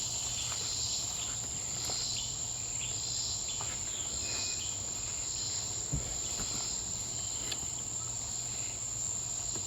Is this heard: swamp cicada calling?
yes